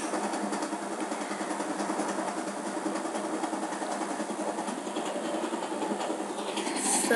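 A train rolls along steadily, its broad rumbling hiss constant and close, with faint rhythmic clatter of wheels on track.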